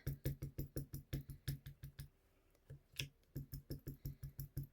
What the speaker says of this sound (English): So let's tape that up.